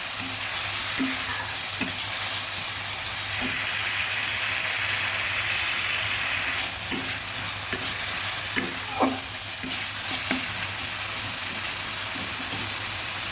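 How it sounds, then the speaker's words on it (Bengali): Spice paste of masala with three green chillies and a splash of water stirred and frying in a pan for prawn malai curry, a steady close sizzle with repeated scraping stirs and a low constant hum underneath. "সামান্য একটু জল দিয়ে দিয়ে মশলাটা ভালো করে ভেজে নেব"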